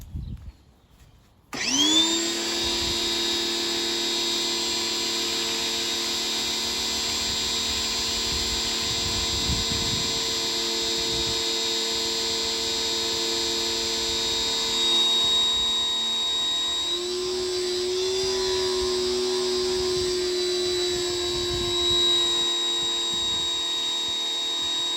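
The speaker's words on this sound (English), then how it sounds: "let's try the Armor All with a pressure washer" A pressure washer drives an Armor All foam cannon. After a brief start-up it settles into a loud, steady whine with a high tonal hum that runs unbroken for over twenty seconds at close range.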